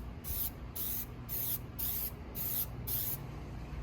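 Plasti Dip sprayed from an aerosol can onto the rear emblem of a 2022 Kia Telluride in light coats: five short, even hissing bursts with brief gaps between them, close and clear over a low background hum.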